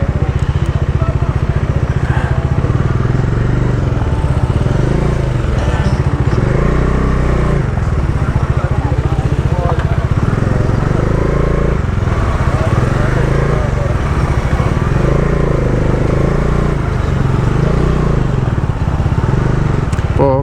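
A Bajaj Dominar 400 motorcycle ridden on a Kenyan road, its engine a loud, steady drone with rushing wind throughout, the note rising and falling gently.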